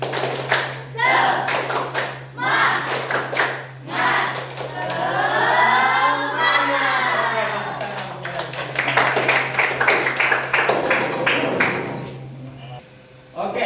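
A class in an Indonesian coding lesson does a spirit clap, clapping in a quick, steady rhythm with voices chanting along over a constant low hum.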